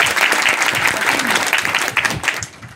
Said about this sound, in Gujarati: તો જોરદાર એકવાર તાળીઓથી કરતા